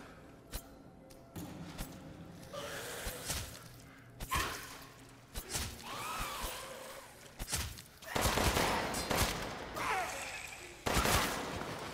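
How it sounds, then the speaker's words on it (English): Hip-fire gunshots in Resident Evil Village played in VR, sharp bursts scattered across the stretch with a cluster of heavier shots near the end, over low game ambience. "I love the hip fire."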